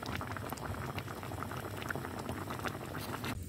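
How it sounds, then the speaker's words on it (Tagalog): Corned beef sinigang boiling in a pot, a steady close bubbling and popping simmer that fills the whole stretch without any talk. "Lutuin lang natin yung corn beef."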